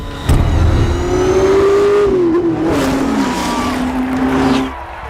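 A race car at high speed roars past loud and near. Its engine note holds high, then bends downward as it moves away.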